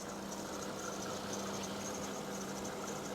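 A VW Phaeton W12 engine idles smoothly and steadily after sitting unused for a long time. The low, even hum holds throughout without any revving, with faint pulley noise mixed in and no voices.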